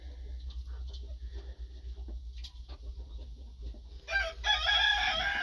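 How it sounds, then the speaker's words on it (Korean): A brooding hen sitting on eggs for natural hatching clucks softly and at close range, the low, intermittent calls rising into a louder, harsher burst at the end over a steady background hum. "암탉이 지금 알을 품고 있습니다."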